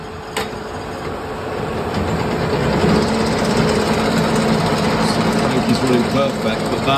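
A lathe turning a crankshaft runs as a steady mechanical whir and hum that swells slightly as the speed rises after a couple of seconds, then holds an even, close drone.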